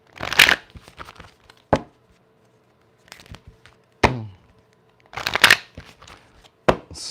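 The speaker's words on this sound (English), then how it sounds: "Quick shuffle." A deck of playing cards being shuffled by hand, with several short riffling bursts separated by pauses and a few sharp taps as the deck is squared, close and moderately loud.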